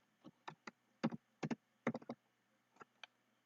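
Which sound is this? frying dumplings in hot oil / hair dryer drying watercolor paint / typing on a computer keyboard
typing on a computer keyboard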